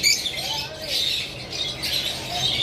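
Lovebirds give high, bright chirps and squawks in quick, repeated bursts, close and fairly loud with no one talking.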